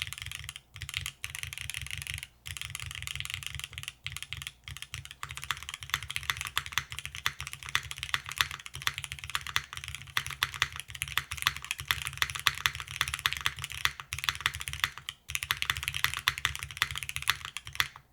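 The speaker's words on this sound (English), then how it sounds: "We have some granite switches, aluminum plate, no foam, and a milky yellow spacebar." Steady, fast typing on an Aepex 60 mechanical keyboard with granite switches, an aluminum plate, no foam and a milky yellow spacebar, a dense close clatter of keystrokes with brief pauses and occasional heavier spacebar thocks.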